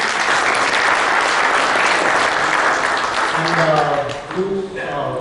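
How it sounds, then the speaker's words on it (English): An audience at a 2014 banking and financial services technology conference applauds steadily and fairly loudly for about five seconds, and voices rise near the end as the clapping thins. "Can we expect a round of applause for Ashish, please?"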